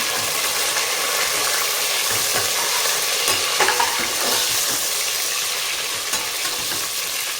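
Chicken white biryani base frying in a pan hisses with a loud continuous sizzle, broken now and then by a stirring scrape.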